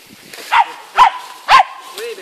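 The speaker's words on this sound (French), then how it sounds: "La chienne, elle crie parce que ça va passer vite." A female hunting dog on a blood-tracking hunt gives three loud, close, yelping whines in a steady rhythm, each a sharp rising cry.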